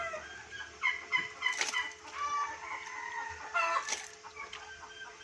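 Several chickens cluck and call at moderate distance, with a couple of sharp louder squawks standing out among the ongoing farmyard chatter.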